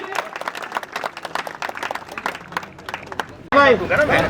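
Staff at a workplace safety day meeting welcome guests with applause, scattered claps under talk at first, then a sudden loud burst of group clapping and voices near the end.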